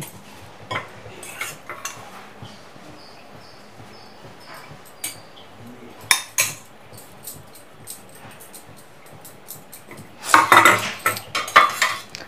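Plates for sweet pumpkin idli being set out in a home kitchen, with scattered clinks and taps of dishes and cutlery, then a louder cluster of clattering toward the end, close by with no talk.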